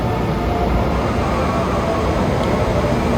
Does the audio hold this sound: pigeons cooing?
no